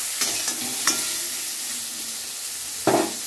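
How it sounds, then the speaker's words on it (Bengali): Slices of eggplant frying in hot oil make a steady soft sizzle, with a few sharper bursts of crackle as pieces are moved about the pan, and no one speaks. "তেল গরম হয়ে গেছে, বেগুনটা ছেড়ে দিচ্ছি"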